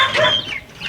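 Chickens clucking on a farm with chicks, a short close burst of hen clucks and squawks with no one speaking.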